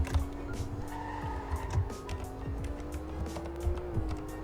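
A 600-horsepower V12 Aston Martin DB11 accelerates hard on a road, its engine droning steadily with a rising tone inside the cabin, accompanied by tire and road noise.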